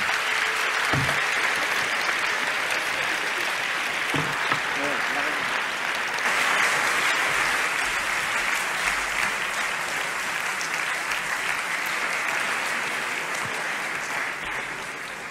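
A conference audience applauds three round-table guests in a long, steady, dense ovation that fills the room, with a voice briefly audible underneath.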